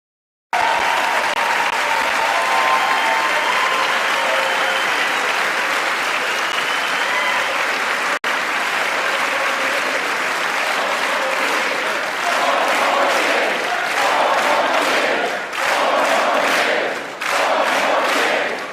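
A large audience applauds and cheers loudly and steadily for nearly twenty seconds, the dense clapping turning into rhythmic swells near the end.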